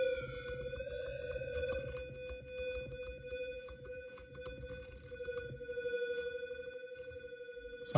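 An OP-1 Field synthesizer preset plays a steady electronic tone like a telephone ringer, a sustained buzzing pitch rich in bright overtones with faint warbling pulses, continuing alone for the whole stretch.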